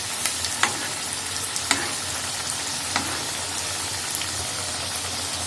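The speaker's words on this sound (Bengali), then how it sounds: "এইভাবে তেল দিয়ে দেব যাতে ভাজাটা ভালোভাবে হয়" Cheese corn dogs, a Korean street food, deep-frying in oil, giving a steady close sizzle with scattered small pops and crackles throughout, alone with no talk.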